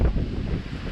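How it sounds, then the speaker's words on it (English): Strong wind buffets across an open homestead, roaring as low rumbling gusts that batter the microphone throughout, loud and close with no other sounds standing out. "that wind is wild as all get out"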